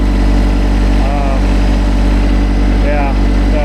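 A tractor engine runs at a loud, steady idle-like drone while it pushes over large trees, a continuous near rumble with a voice talking over it.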